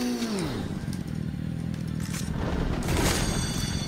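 Motorcycle engine in the Fortnite video game, a steady buzzing drone that sweeps downward early on, with clattering game effects and scrapes over a continuous engine hum.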